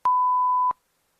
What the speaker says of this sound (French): veuillez laisser un message après le bip sonore